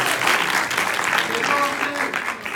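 Short spell of audience clapping in a lecture setting, steady and moderately loud, with a voice briefly heard over it before it tapers slightly at the end.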